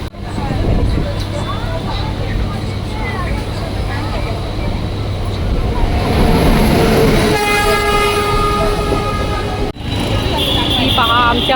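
A train rumbles steadily with clattering wheels, a horn sounding partway through, and voices talking over the noise.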